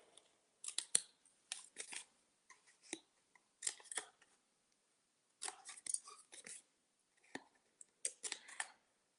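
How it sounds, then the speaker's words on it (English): Scissors snip off the edges of paper in quick bursts of crisp cuts during a card-stamping session, clusters of two to four snips separated by short pauses, close and fairly quiet. "we're just going to snip out these edges again real quick"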